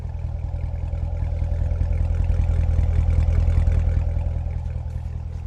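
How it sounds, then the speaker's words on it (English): A stock Chevrolet Corvette C7 with its LT1 V8 and factory exhaust fires up and settles into a loud, steady idle right next to the microphone, with a deep low rumble and no one speaking. "This is what a stock LT1 sounds like."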